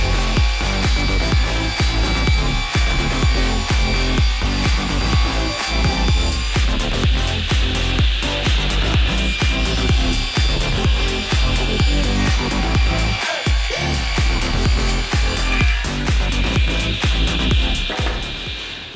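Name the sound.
table saw cutting a 3/4 inch plywood sheet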